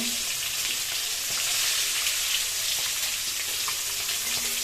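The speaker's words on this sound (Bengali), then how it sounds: "এদিকে আমাদের ডিমটা ফ্রাই হচ্ছে" An egg fries in a pan with a steady, hissing sizzle at moderate level, even and continuous with faint crackles, no talking.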